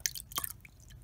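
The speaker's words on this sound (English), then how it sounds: "my goal is to pour out the clear part, not the muddy part" Clear water is carefully poured out of a salamander larvae tank, giving a brief burst of small splashes and drips, close and fairly quiet.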